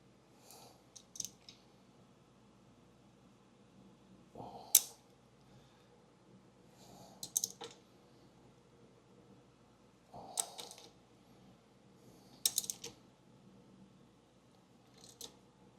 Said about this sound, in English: now we start breaking bolts